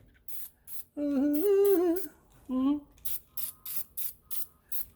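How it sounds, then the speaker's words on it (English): Several short hissing spray bursts in a steady rhythm, following a stretch of singing voice with a brief pause between phrases. "Shake your old rattle can. Shake your rattle can. A spray, spray, spray."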